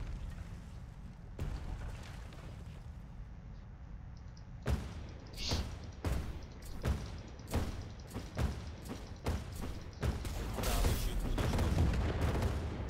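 Enemy ship blowing apart under gunfire in Pirates: Storm the Skies, a fusillade of sharp blasts and booms firing in quick irregular bursts, building into a dense, loud barrage of explosions toward the end.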